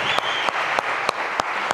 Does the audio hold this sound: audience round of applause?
yes